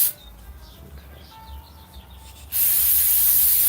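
An aerosol cleaner sprays onto carburetors from a 1995 Kawasaki Ninja 900 in a loud, steady close-up hiss that starts abruptly after a couple of quieter seconds.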